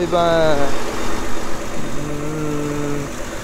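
A tractor pulling a mower in a field runs with a steady, close mechanical engine hum while someone talks over it.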